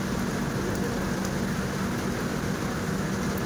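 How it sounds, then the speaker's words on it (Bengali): Heavy rain pours down around a train stopped in North Bengal, a loud, unbroken roaring hiss of drops on surfaces that fills the whole moment without any voices. "এই দেখো বৃষ্টি হচ্ছে কি জোরে।"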